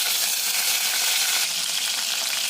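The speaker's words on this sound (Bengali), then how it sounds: "এখানে আমি চিকেনটা তেলের উপরে একটু ভেজে নিচ্ছি গোলমরিচ গুঁড়ো দিয়ে।" Chicken pieces frying in hot oil with ground black pepper, giving a steady, close, broadband sizzle that holds at an even level throughout, with no talking.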